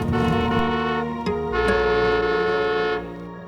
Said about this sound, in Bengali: এত জোরে হর্ন!